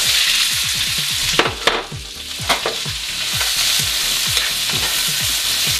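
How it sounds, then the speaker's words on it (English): Onions sautéing in a pan for a pastel de choclo base give a steady close sizzle and frying hiss, with repeated stirring scrapes ticking through it and a few sharper clinks partway. "First off, we're going to start sauteing some onions."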